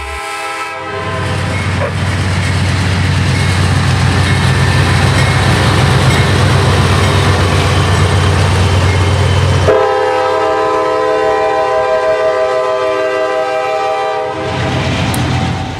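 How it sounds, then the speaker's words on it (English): A Norfolk Southern freight train roars past close and loud, a steady heavy rumble and clatter, with sustained horn tones sounding partway through before it fades. "Several minutes later, another NS train rushes past."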